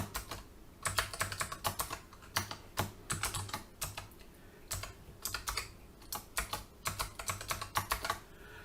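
A password is typed on a computer keyboard in quick, irregular clusters of crisp key clicks, close and clear with brief pauses between bursts.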